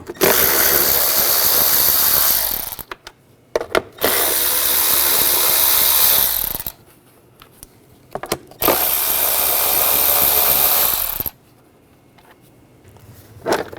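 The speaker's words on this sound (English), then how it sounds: "We're going to remove this cover, use a 10mm socket. There's 4 nuts on top." On a 2006-2010 BMW 550i, a power tool fitted with a 10mm socket whirs loudly in three sustained bursts to back out the four nuts on top of a cover, with brief clicks and quiet gaps between bursts.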